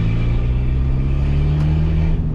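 A Peugeot 206 1.4 running a straight-pipe exhaust revs hard and loud, its deep steady engine drone and rumble filling the whole stretch up close with no pauses.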